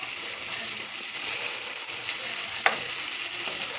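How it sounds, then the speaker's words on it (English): Chicken sizzles steadily in a hot pan, a continuous close hiss of frying with a brief sharp crackle partway through, no voices. "nothing like that good sizzle. That's how you know when your pan is hot"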